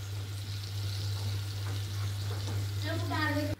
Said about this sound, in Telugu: ఇదిగోండి ఇలా తిప్పుకోవాలి కూర